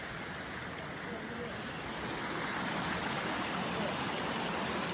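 Water pours down from higher ground at an outdoor spot near Kolhapur, a steady broadband rush that swells slightly and holds without a break for the whole stretch.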